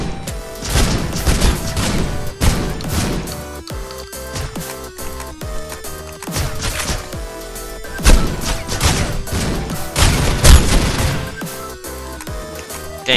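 Repeated shotgun blasts and crashing impacts from the mobile shooter game Critical Ops, loud and busy over a dense layer of game music and effects lasting throughout.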